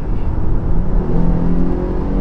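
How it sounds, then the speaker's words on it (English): A 2021 Dodge Durango GT accelerates hard from a rolling start at about 30 mph, its engine note rising in a steady, loud pull heard from inside the cabin. "I want to show you just a rolling start from about 30."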